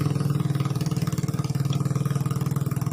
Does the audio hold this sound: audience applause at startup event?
no